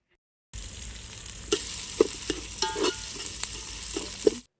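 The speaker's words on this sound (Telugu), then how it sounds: "మనం ముందుగానే కట్ చేసుకున్న ఆనియన్, పచ్చిమిర్చి యాడ్ చేసుకొని ఒక 5 మినిట్స్ ఫ్రై చేసుకోవాలి" Onion and green chili fry with cumin and fenugreek for an Andhra mango and murrel fish curry, a steady close sizzle broken by several sharper stirring scrapes and clicks against the pan.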